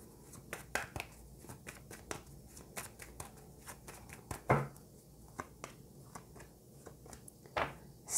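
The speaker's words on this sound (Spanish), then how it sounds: "vamos Pisces a sacar tres cartas más antes de cerrar tu lectura." Tarot cards being shuffled and drawn by hand during a Pisces reading, with a series of soft, close card flicks and slaps at irregular intervals.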